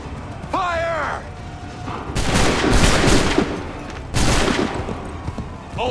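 Volleys of musket gunfire in Assassin's Creed III, coming as two loud, crackling bursts of many overlapping shots after a shouted command, with a brief hiss between them.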